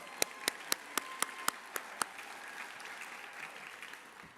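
Scattered individual claps at a challenge finals celebration, a handful of sharp distinct hits in the first half, faint and fairly close, before fading into room murmur.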